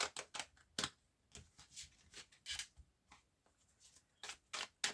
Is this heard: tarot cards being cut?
yes